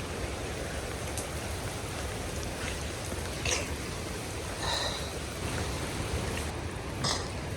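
Bomburu Ella waterfall in the rainy season gives a continuous dense roar of falling water, moderately loud and steady, with no voices.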